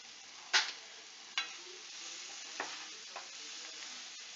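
Paneer butter masala gravy with coriander-cumin powder and kasuri methi gently sizzles in a pan while a spoon scrapes and stirs it, with a few distinct stirring knocks over a steady low hiss.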